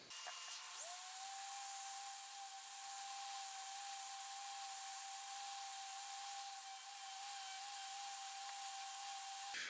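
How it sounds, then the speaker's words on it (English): Power sanding of wooden offcut candle holders, a steady high-pitched motor whine with broadband hiss, quiet and continuous for the whole stretch, starting up just after the opening. "Next up is a quick sand"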